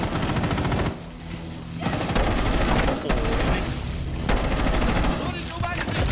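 Loud, dense automatic gunfire in Rainbow Six Siege, long rapid bursts broken by brief pauses, close and harsh, with some in-game sounds mixed in.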